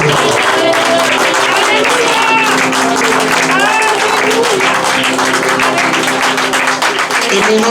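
Church congregation at an ordination service applauding and cheering, sustained dense clapping with excited voices and shouts throughout, loud and close.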